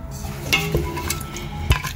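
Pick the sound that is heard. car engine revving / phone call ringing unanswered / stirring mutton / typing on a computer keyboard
stirring mutton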